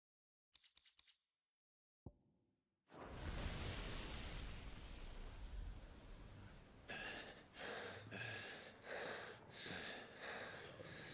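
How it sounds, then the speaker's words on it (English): Torgal, the wolf companion in a video game, pants in steady rhythmic breaths that follow a short burst and a brief silence. The breathing is close and moderately loud over a constant noisy background. "Damn, even Torgal's panting."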